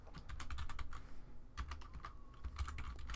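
Fast typing on a computer keyboard, a dense run of close, crisp key clicks and clacks with a brief pause midway, heard alone and fairly quiet.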